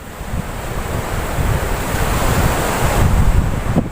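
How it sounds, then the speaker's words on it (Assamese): Strong sea wind buffets the microphone over a steady roar of surf on a Goa beach, loud and continuous and building slightly toward the end. "এয়া সাগৰৰ পাৰত কি ধুনীয়া বতাহ"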